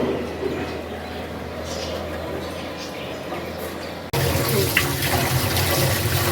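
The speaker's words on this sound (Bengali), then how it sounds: "পাতাকপির ভিতরে ভিতরে ময়লা থাকবে আমি একটু পাকোড়া বানাবো তাই একটু সুন্দর করে ধুয়ে নিচ্ছি" Cabbage being washed under running water for pakoras, a steady rush of water that grows louder and closer partway through, with faint voices in the background.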